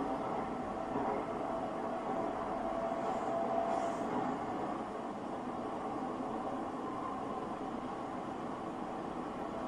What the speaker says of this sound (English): That's me on the subway.